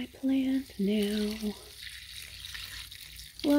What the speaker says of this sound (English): So I am watering my plant now.